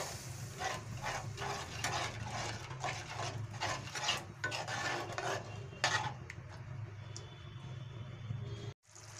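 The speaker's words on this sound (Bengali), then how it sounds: "এবারে আমি যে পেস্ট করে রেখেছিলাম সেই পেস্টটা দিয়ে দিচ্ছি। দিয়ে এবারে এটাকে অনবরত নাড়তে হবে।" Spice paste being stirred continuously in a pan for milk chicken, heard as a close, rhythmic rasping scrape of spoon on pan with a steady sizzle beneath, easing off near the end.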